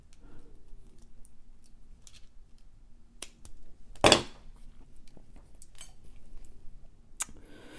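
Scissors snip a jewelry bracelet cord in one sharp, close cut, surrounded by faint small clicks and handling noises in a quiet room.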